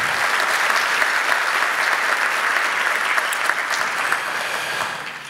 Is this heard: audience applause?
yes